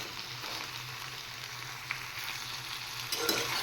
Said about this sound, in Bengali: ভিন্ডি আর পেঁয়াজ ফ্রাই করে নেব, আর আঁচটা একটু কমিয়ে ফ্রাই করব।